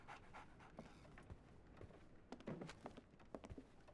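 A dog in the video game Sherlock Holmes: The Awakened pants in quick, rhythmic breaths, fairly quiet and close, with a few soft thumps and taps scattered through.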